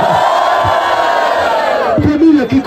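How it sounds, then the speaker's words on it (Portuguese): Loud crowd cheering and shouting at a rap battle final, a dense sustained roar of voices filling the space, with a few louder individual shouts rising near the end. "Muito barulho para esse primeiro round!"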